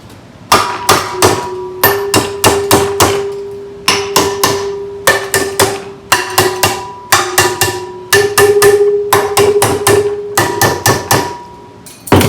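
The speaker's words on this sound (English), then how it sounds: "go through and tap on the springs to try to get the keepers to break a little bit loose" Rapid metallic hammer taps in quick clusters of three to five, bright and ringing, repeated steadily at close range with brief pauses between groups.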